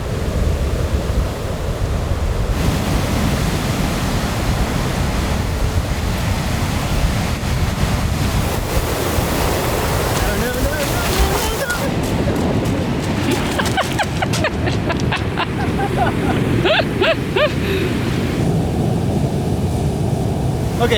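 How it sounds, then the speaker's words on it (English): Ocean waves crash and churn on New Zealand's rugged west coast, a loud continuous surf roar with surges and wind buffeting the microphone, plus brief bursts of nearby talk. "I could sit here and watch those waves crash for hours"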